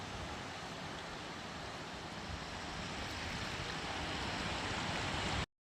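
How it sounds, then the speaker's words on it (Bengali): Sea water and current wash over feet at Mandarmani beach at low tide, a steady broad rushing of shallow surf that builds slightly before cutting off abruptly at the end. "সুন্দর জল আসছে, স্রোত একদম পায়ের উপর দিয়ে আসছে।"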